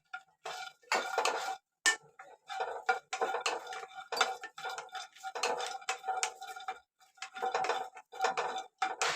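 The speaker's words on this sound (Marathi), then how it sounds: "आणि हा व्यवस्थित भाजून घ्यायचा बघा लसूण भाजून झालाय काढून घेते" Garlic roasting in a pan while being stirred, with quick metallic scrapes and clinks of a spoon against the pan coming in uneven bursts, close and clear, without any talking.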